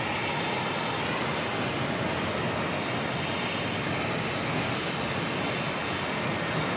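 An Air New Zealand A321neo jet arriving at Auckland Airport from Sydney, a steady broad engine roar with airy rushing, loud and constant throughout.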